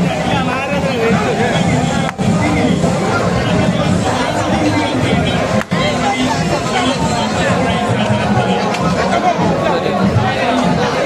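Dense crowd chatter fills a busy seaside Narali Purnima festival in Malvan, where coconuts are being smashed and coconut-throwing contests are underway, a loud, steady babble of many voices close all around, unbroken throughout.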